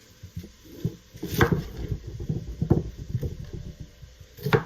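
A knife chopping an onion on a cutting board for a keto Zuppa Toscana soup, giving a loose run of close, uneven knocks and taps with faint clinks, no voices.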